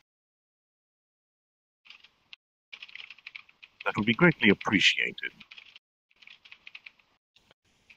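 Computer keyboard typing picked up through a microphone during a VRChat voice session, a run of light clicking taps under and around a nearby voice speaking.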